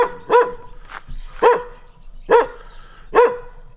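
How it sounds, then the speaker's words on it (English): A bakery's resident dog, Aurora, barks four times in an evenly spaced run, loud and close, each bark sharp with a slight whine, with quiet gaps between. "Bakery dog."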